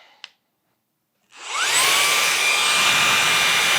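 A cordless electric air duster fitted with an inlet attachment runs as a small vacuum, its loud, steady high-pitched whine starting after a brief click and near-silence, then holding at constant volume, close up and alone.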